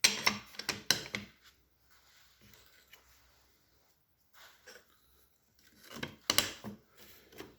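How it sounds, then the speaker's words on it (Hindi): A plastic wedge is forced into a tile levelling clip, giving quick bursts of ratcheting clicks and scraping at the start and again near the end, with quiet handling in between. "तो ये चीज़ जब है इसको मैं अब टाइट कर रहा हूँ यहाँ से"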